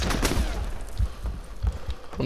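Gunfire in the World War II shooter game Resistance & Liberation, with several heavy, booming shots and cracks landing in irregular bursts over a dense rumble of battle noise, all fairly loud and close.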